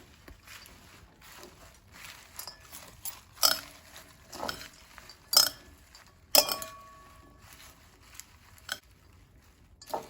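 A blueberry and feta salad with cracked pepper is tossed in a bowl, producing scattered light clinks and soft scrapes of utensils against the dish, quiet and intermittent with pauses between strokes.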